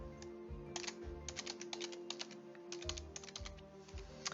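Someone types a name and email address into a website contact form on a computer keyboard. The clicks come close-up in quick, uneven bursts with short pauses between them, and no one speaks.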